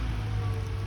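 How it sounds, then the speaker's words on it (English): Heavy rain pours down on a muddy temporary dirt road on a road construction site, a dense, steady hiss of drops filling the short moment without any voices. "It's actually raining pretty good out here."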